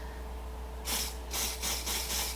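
Dior Air Flash foundation in shade 104 sprays onto a makeup brush in a quick series of four or five short, close hissing bursts in a quiet room.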